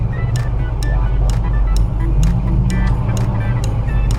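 An LS-swapped 1974 Chevy C10 square body truck engine runs steadily and loudly up close, its low rumble continuous with faint ticking clicks repeating over it.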